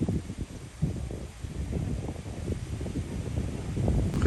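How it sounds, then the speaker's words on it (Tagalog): Strong wind buffets the microphone on a golf course at Aoki Eagle Ridge, a steady low rumbling roar with gusty surges throughout and no talk. "Malakas yung hangin"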